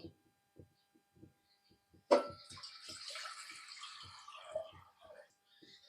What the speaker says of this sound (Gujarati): હવે આમાં નાખશું પાણી